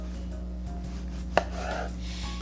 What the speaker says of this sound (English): So for the next step, I'm going to cut it into cubes.